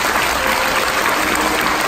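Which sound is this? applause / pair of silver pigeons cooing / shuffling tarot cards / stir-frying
applause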